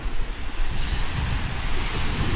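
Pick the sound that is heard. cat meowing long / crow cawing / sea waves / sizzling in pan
sea waves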